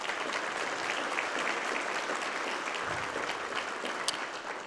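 An audience at a health equity summit applauds steadily, an even, moderately loud patter of many hands that lasts throughout and eases slightly at the end.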